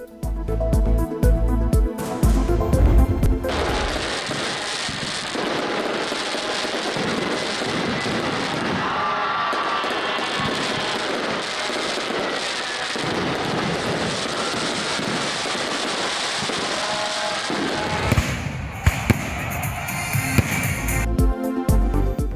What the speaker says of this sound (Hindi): आतिशबाजी, आसमान पर रंगो रोशनी की बरसात